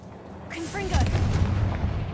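A Confringo fire spell in Hogwarts Legacy lets off a fiery blast, a sharp burst followed by a rumbling crackle of explosions that lasts over a second, with a short voice just before the bang.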